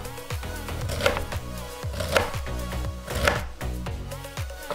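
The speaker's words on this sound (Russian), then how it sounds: "Пекинскую капусту просто режем поперек на кусочки шириной примерно по 2-3 сантиметра." A knife slices Napa cabbage crosswise into wide pieces on a cutting board, producing about five evenly spaced, crisp chops, each followed by a crunchy tearing sound, close up with no talk.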